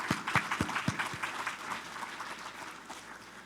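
Audience applauds scholarship donors at a chamber event, opening with a few distinct near claps over a spread of quieter clapping that thins and fades over several seconds.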